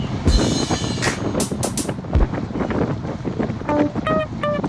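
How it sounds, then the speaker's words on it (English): Wind gusts roar across the microphone of a cyclist riding into a headwind, a loud, broadband rush, with some brief tonal chirps and rattles toward the end. "we've been fighting this wind for the better part of an hour"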